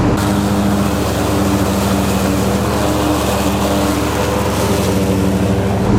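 Cedrus C-TRAC 102HC garden tractor pushing through heavy, overgrown terrain, its engine a loud, steady droning hum with no pauses from start to finish.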